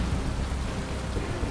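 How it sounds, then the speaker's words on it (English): Heavy rain pours steadily at a roadside heavy-wreck towing scene in stormy weather, a dense even hiss with a low rumbling undertone, loud and continuous with no voices. "Beauty weather, who ordered the rain?"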